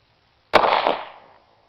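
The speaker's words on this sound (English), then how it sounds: "shoot off a couple rounds" A single sharp Glock pistol gunshot goes off close and loud, followed by a ringing decay that trails for nearly a second, with silence before and after.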